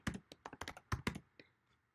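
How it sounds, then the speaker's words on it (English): Close keystrokes tap on a computer keyboard in a quick irregular burst of about a dozen clicks that trail off into quiet. "start typing your own"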